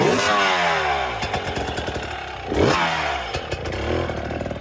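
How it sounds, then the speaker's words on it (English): A dirt bike engine revs sharply with a quick throttle blip, loud and close, its revving rising and falling over a steady idle with some mechanical clatter. "we're giving it a blip of throttle."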